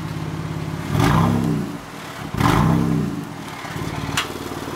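Dodge Challenger SXT with a valvetronic exhaust system revving up close, two loud throaty blips that rise and fall back to a steady idle, with no talk.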